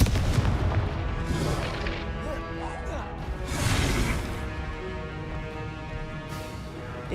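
Repeated fiery spell explosions in Hogwarts Legacy, booming and crashing in dense overlapping bursts with whooshes, while a voice shouts spell names over the din.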